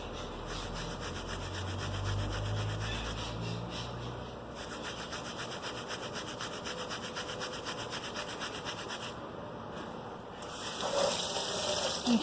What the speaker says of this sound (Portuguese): Basta esfregar em todos os lados.